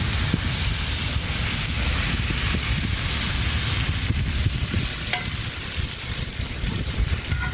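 Anchovy (nethili) fish frying in a pan with garam masala, coriander powder and salt, stirred and scraped: a loud, steady sizzle throughout with the scratchy sounds of stirring, and no voices.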